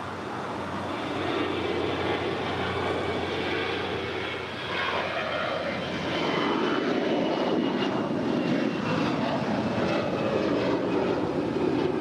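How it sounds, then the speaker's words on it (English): An American Airlines A321 jet departs LAX's south side with a sustained, broad engine roar that holds steady and swells slightly over several seconds, heard from a distance with no talk. "It's an A321. It's the next departure here on the south side."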